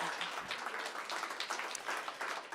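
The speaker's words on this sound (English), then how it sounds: "Let's give them a round of applause." An indoor audience at a music performance applauds steadily, a dense wash of clapping hands that stays even and moderately loud throughout without any talk.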